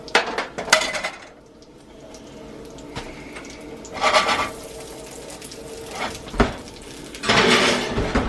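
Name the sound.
metal sheet pans handled from the oven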